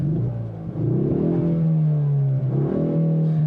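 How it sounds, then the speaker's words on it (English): A 2024 Ford Mustang EcoBoost turbocharged engine revs up loudly in track mode from inside the cabin, pitch rising and holding, then dipping and climbing again in a second surge. "the engine actually has a really nice sound, but I will say that it sounds augmented inside the cabin"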